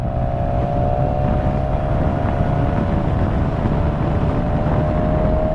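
A BMW S1000XR motorcycle leaning through tight curves on a winding road, its engine holding a loud, steady drone with a slowly rising whine above constant wind rush.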